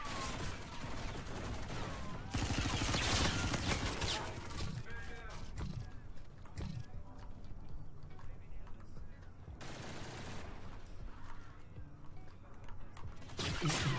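Shooter video game gunfire roars almost continuously, dense bursts of rapid shots layered with explosions and game clatter, loud and sustained from start to finish.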